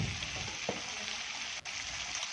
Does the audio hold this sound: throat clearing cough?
no